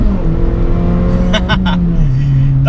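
The 1.6 litre engine of a Suzuki Swift Sport, a modified car, revs loud and close with a rising, then settling tone, and a few short sharp bursts in the middle.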